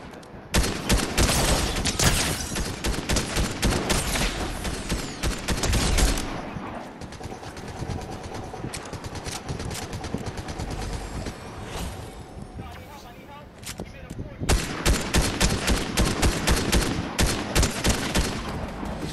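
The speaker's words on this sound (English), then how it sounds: "Yeah, they shooting at Travis." Gunfire in the Fortnite video game, with loud bursts of rapid automatic shots, a long stretch of dense firing, then another heavy burst near the end, while players talk over the shooting.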